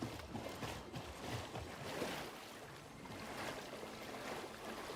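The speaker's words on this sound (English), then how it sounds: "We've got a nice little waterfall there." Waterfall in the video game Satisfactory, a soft continuous rushing and splashing of water, faint and steady throughout with no speech.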